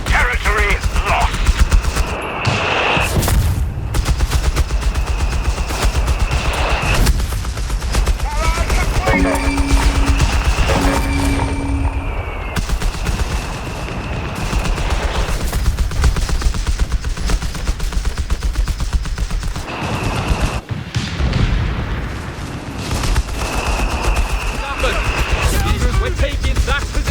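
Dense gunfire from Company of Heroes 3, a World War II strategy game with Matilda tanks battling flak, crackles in rapid bursts and sustained machine-gun rattles throughout, layered with explosions, game radio chatter and voice lines.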